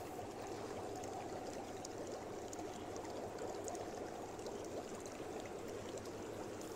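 Water in a jacuzzi flows and bubbles in a soft, continuous wash, faint and steady throughout without interruption.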